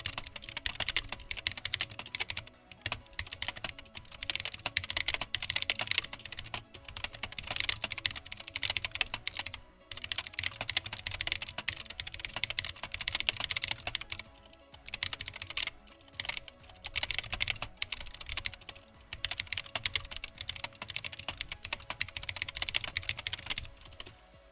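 Typing on a Nixeus Moda Pro mechanical keyboard fitted with clicky Gateron switches, Cherry MX Blue equivalent: steady, fast runs of close, crisp clicking keystrokes with short pauses, played alone with no talking.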